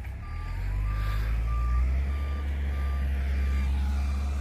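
A truck bringing a load of material for a new road backs up with a steady series of evenly spaced reversing beeps over a deep, rumbling diesel engine, close by and loud, with no talk.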